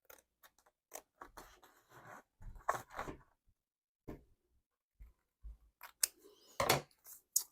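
Scissors snip through a standard paper index card in a run of short, crisp, close cuts, with quiet pauses between the snips and a faster cluster of cuts near the end.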